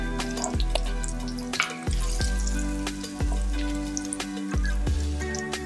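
Ginger and garlic fry in a pan with a steady crackling sizzle, close and fairly loud, while a tonal electronic melody plays over it in repeating falling phrases.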